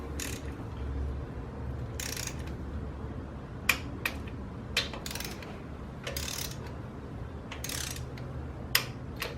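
Bolts on the lower end of a Ford FE stroker engine are torqued with a wrench, giving bursts of ratcheting clicks and sharp metallic snaps at irregular intervals over a low background hum.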